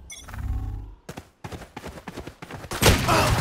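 Sniper rifle fire in the Valorant video game comes as a loud opening boom followed by a rapid series of sharp cracks and thuds, ending in another heavy blast.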